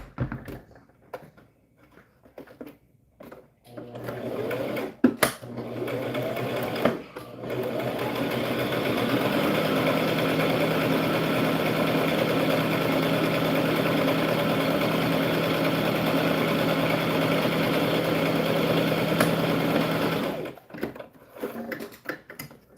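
An inexpensive beginner sewing machine from Walmart stitches organza ribbon trim onto a tutu: after a few handling clicks it whirs in a steady, close mechanical run for about fifteen seconds, then stops with more handling noises.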